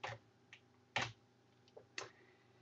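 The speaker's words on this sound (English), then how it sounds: "I want to type in here auto" A few sparse, quiet keystrokes on a computer keyboard while typing a search, with separate clicks spaced apart in a quiet room.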